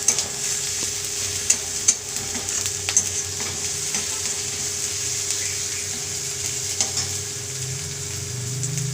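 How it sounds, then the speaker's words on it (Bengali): Black cumin, onion and tomato fry in oil in a pan for a Bombay duck curry, making a continuous, even sizzle with a few sharp spoon taps and a low steady hum beneath, no voices. "আগে তেল দিয়েছিলাম, দিয়ে কালো জিরে দিয়ে গরম করে ভেজে নিয়েছিলাম কালো জিরেটাকে, দিয়ে পেঁয়াজ আর টমেটো দিয়েছি, ভাজতে দিয়ে সেটা"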